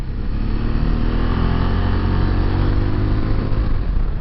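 BMW C400X scooter engine droning steadily while riding, a continuous close mid-pitched hum with wind noise and faint rising harmonics, even in level throughout without talk.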